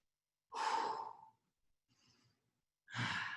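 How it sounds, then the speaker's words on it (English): Deep, audible breaths during a forearm plank exercise: a long close exhale, a faint breath, then another strong breath, with rhythmic pauses between them. "When you inhale, your belly expands. Exhale, belly collapses."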